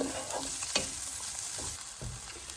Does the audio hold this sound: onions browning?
yes